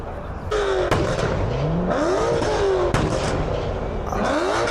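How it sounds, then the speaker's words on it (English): A V8 car engine revving hard repeatedly at a crowded car event, with rising and falling pitch sweeps and sharp exhaust cracks, loud and close over crowd noise and talking. "Can't tell you what that was, but it sounds like a V8."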